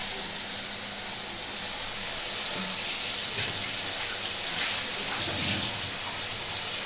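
Water used for washing boiled food is poured into a cooking pan while a jackfruit and prawn dish is being made, producing a steady, close splashing hiss that runs without a break.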